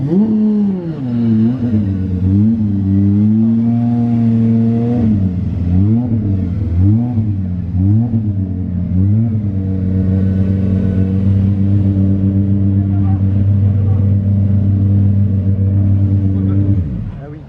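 An Aston Martin Vulcan race car being maneuvered at low speed on a Monaco street during the Gumball 3000, its deep engine rumbling steadily with short throttle blips and pitch swells, loud and close throughout.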